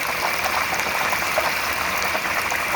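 Turkey lowered into a pot of hot frying oil, giving a dense, steady bubbling hiss at close range with no talking over it.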